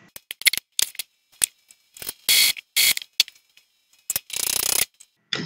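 An Epson printer running its head cleaning cycle makes intermittent ratcheting clicks and short whirring mechanical bursts, separated by silent gaps, close by.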